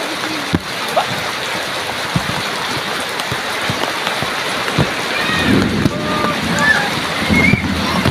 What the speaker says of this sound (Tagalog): Ang lamig ng ulan.